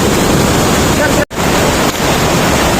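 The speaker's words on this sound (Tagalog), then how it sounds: "Ang lakas ng alon." Strong surf at Ditumabo Mother Falls, Baler, Philippines, roars steadily and loudly, with continuous wash of crashing waves and wind buffeting the microphone, cut by one brief dropout.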